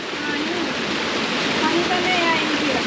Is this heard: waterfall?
yes